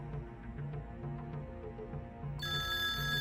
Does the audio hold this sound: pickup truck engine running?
no